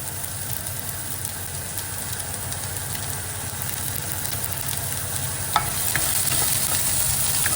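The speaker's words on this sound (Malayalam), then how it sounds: "ഇതൊന്ന് മൂക്കുന്നവരെ ഇളക്കുക. തീ കുറച്ച് വെച്ചിട്ടാണ് ഞാൻ ഇളക്കുന്നത്." Onions frying over low heat with a constant sizzle while a utensil stirs and scrapes the pan, including one sharp clink near the end; no voices.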